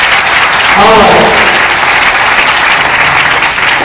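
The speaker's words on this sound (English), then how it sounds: "Come on, give him a round of applause." Sustained audience applause at a university distinguished speaker series event, dense steady clapping filling the room throughout, with a brief voice rising over it near the start.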